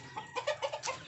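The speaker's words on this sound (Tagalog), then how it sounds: "Oh, yung mga manok naman namin pasaway." Farm chickens cluck in a short burst of quick, moderately close calls, with no talking over them.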